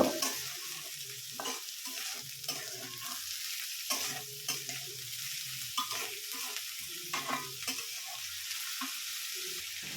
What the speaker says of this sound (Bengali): চালটাও কিছুক্ষণ এই পেঁয়াজ মরিচের সাথে ভেজে নেব